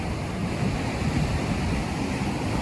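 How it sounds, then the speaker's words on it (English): Ocean surf surging through a rocky blowhole on a Cayman shoreline, a steady, broad roar of rushing water and spray with wind buffeting the microphone throughout, no voices. "So that's where the wave comes through."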